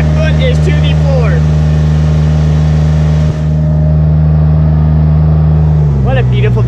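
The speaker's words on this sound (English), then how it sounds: "It's full throttle, guys. My foot is to the floor." A Chevrolet K1500 pickup truck engine held at full throttle, a loud steady drone with dense harmonics that drops abruptly near the end, alone without talking.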